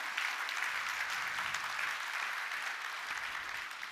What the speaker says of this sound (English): OK, big applause.